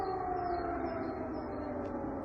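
Air raid sirens wail over wartime Ukraine, a steady sustained howl holding at a distance with faint background hum and no talk.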